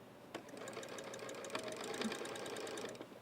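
Sewing machine stitching a throw pillow seam, a short soft burst of rapid needle chatter and motor hum at moderate distance, fairly quiet and without speech.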